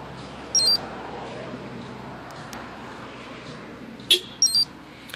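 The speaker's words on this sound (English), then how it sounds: "Second push of lock can give us that horn confirmation on the vehicle." A 2015–2016 Honda CR-V with a two-way remote start system gives short electronic lock-confirmation chirps: one brief beep early, then a quick cluster of two or three sharp chirps near the end over a steady background hiss.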